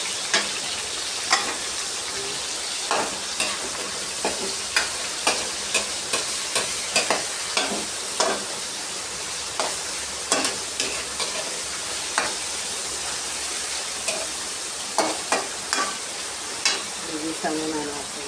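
Vegetables for pancit sizzle steadily in a hot pan, broken by repeated clicks and scrapes of a spatula stirring at a fairly even rhythm, close up and with no talking.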